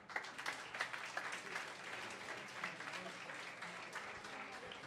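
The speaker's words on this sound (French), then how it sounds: "Vous pouvez vous applaudir." About a hundred people at an evening event applaud themselves, quiet and fairly distant, with steady clapping and some murmuring voices mixed in.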